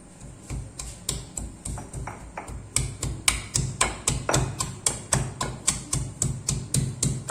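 Garlic and ginger crushed for a bilimbi pickle, a run of sharp regular pounding taps that start sparse and quiet, then settle into a steady, louder, evenly spaced rhythm close by.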